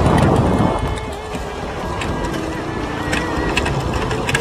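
A flat-bodied Vespa scooter engine drones on a test ride over a rough road, with a louder burst at the start settling into a steady buzzing hum under heavy wind rush.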